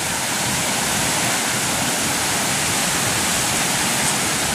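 Strong floodwater coming down from the fields rushes past in a steady, loud, unbroken roar of broadband water noise, dense and close with no pauses or voices.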